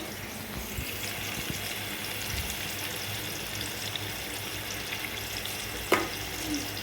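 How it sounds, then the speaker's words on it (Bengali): Spiny gourd (kakrol) pieces fry in a pan to a reddish brown, making a soft, steady sizzle with low background rumble and one sharp clatter near the end, with no talk. "এখন কাঁকরোলগুলোকে লাল লাল করে ভেজে নেব"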